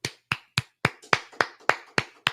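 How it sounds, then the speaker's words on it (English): Nine sharp, evenly spaced claps close to the microphone, a short single-person round of applause at the end of a basketball panel show, with silence between each clap. "Round of applause, y'all."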